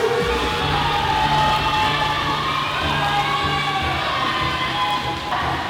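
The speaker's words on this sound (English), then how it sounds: "I think you can hear fans cheering for you and teammates cheering for you." A crowd of fans and teammates cheers at a swim meet, a dense, steady roar of many voices sustained without a break throughout.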